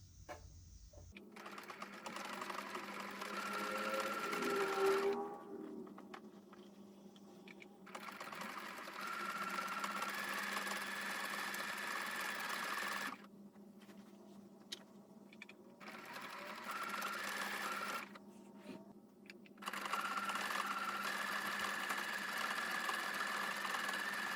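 A Singer Quantum Stylist 9960 sewing machine stitching custom letter and number labels, running in steady whirring bursts that stop and restart several times, close and fairly quiet.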